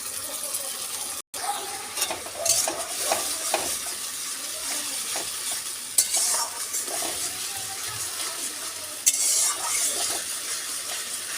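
Ground spice paste fries with onion and tomato for a masala chicken curry: steady close sizzling broken by repeated stirring scrapes and a few sharper clatters, with a brief dropout early on.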